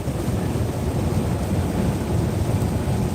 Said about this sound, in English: Yeah, you're getting the storm, that's for sure.